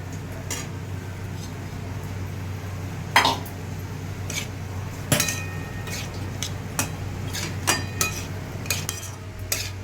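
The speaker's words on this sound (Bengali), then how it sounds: "এবার এটাকে আমি হালকা হাতে একটুখানি নাড়াচাড়া করে মশলার সাথে কষিয়ে নিচ্ছি।" Vegetables being stirred with spices in a pan, marked by irregular metallic clinks and scrapes of a utensil against the pan over a low steady background hum.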